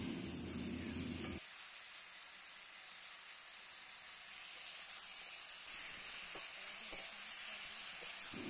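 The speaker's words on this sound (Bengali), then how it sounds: "এখন কেটে রাখা আলুগুলো দিয়ে নিচ্ছে, দিয়ে এবার মশলাটার সাথে ভালো করে কষিয়ে নিতে হবে।" Cut potatoes stir-fried with ginger paste and spice masala, a low steady hiss and sizzle throughout, faint and quiet, after a brief louder clatter at the start, with a few light scrapes later.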